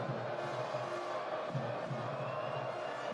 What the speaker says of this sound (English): A faint cheer from the Western Terrace for those Castleford fans that have remained